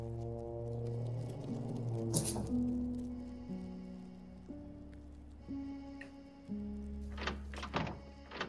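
Heavy thunks and knocks echo from a staircase in the Fears to Fathom horror game, striking irregularly over a low, steady game drone, with a sharper cluster of hits near the end.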